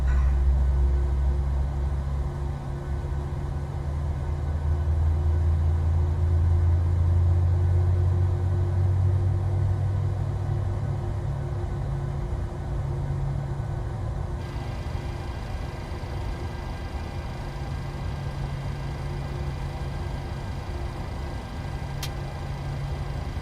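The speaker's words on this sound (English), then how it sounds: "Sounds like 2 good engines." Airliner's two engines idling after start in Microsoft Flight Simulator, a steady low rumble with a constant whine above it, even and continuous, no voice over it.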